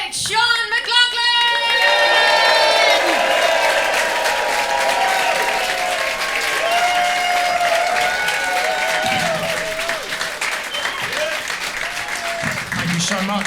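A Bristol comedy crowd applauds and cheers as a stand-up comedian is welcomed to the stage, loud dense clapping with whoops that gradually thins out, with music and a voice heard under the noise.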